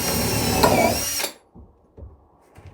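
Power drill boring a pilot hole into cabin wood during a window installation, a loud steady whine for just over a second that cuts off abruptly, followed by a few faint knocks and handling noises.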